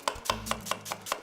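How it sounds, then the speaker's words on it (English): A knife chopping food on a cutting board in a kitchen, six crisp, evenly spaced chops at a brisk rhythm, close and clear with no talk. "you start chopping it"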